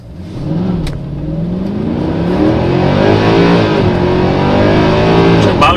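A 2009 Mercedes C63 AMG with the P30 pack accelerating hard in sport mode, its engine note rising steadily and loud through the revs with a deep, rough roar heard from inside the car.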